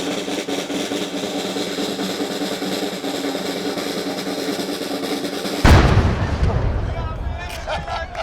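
A ceremonial cannon fires at a Havana harbour fortress at nine o'clock at night, a single loud, deep boom that bursts suddenly after a steady crowd murmur and rolls away with echoing decay.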